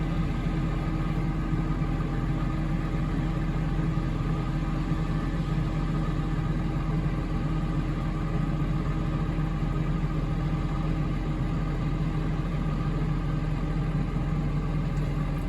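A Claas Lexion 7600 combine harvester cutting wheat drones with a steady deep engine hum and mechanical whir, constant and close from inside the machine, with no talking.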